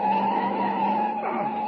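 Car tires skidding loudly around a sharp curve as a radio drama sound effect, a sustained squeal held steady throughout with a rough shift near the end.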